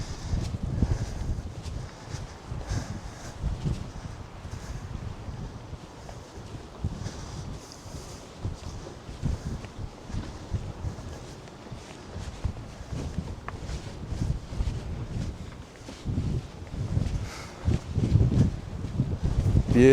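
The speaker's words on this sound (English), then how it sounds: "They did warn us it was going to be windy in this town." Strong gusting wind buffets the microphone outdoors in a dusty, windy Nepali town, with heavy low rumbling bursts that rise and fall throughout, loudest toward the end.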